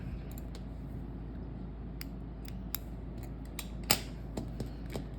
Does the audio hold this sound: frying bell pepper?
no